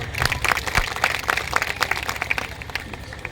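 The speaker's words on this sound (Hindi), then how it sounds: "इनके सम्मान में ज़ोरदार तालियां बजा दी" A small gathering claps in honour of guests at a company event, a sparse, uneven patter of individual hand claps close by, fairly loud and irregular, gradually thinning toward the end.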